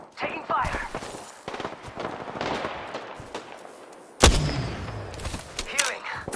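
Bursts of gunfire from the battle royale game Apex Legends crack out in rapid clusters, with one loud close volley partway through, amid game effects and a player's voice.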